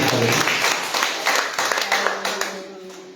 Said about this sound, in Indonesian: Sambil tepuk tangan bagi Tuhan Yesus.